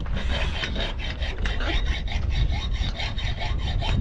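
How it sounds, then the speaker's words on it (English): A hand saw rasps steadily through sailboat rigging in quick repeated back-and-forth strokes, close and fairly loud, with no voices. "So cutting the rig off."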